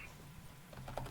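Soft, close computer keyboard typing while writing MATLAB code, a few quiet key taps clustered near the end of a brief moment.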